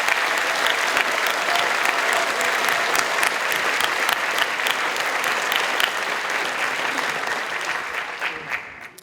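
Dense, sustained audience applause at a socialist political conference, loud and continuous for several seconds before tapering off at the end.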